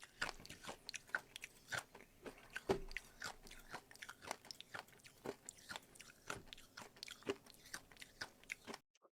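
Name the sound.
streamer chewing loudly into the microphone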